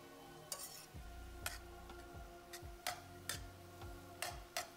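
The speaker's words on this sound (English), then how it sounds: "Keep stirring." Chicken is stirred and fried in a pan: a faint, soft sizzle with regular spatula taps and scrapes against the pan, about one every half second, heard quietly without talk.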